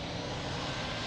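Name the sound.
aircraft taking off from runway at Lisbon Airport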